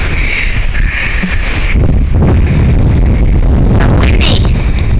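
Strong wind at Popham Beach, Maine, blasts across the microphone in a loud, continuous roar with heavy low rumbling buffets and gusts that swell and fade throughout.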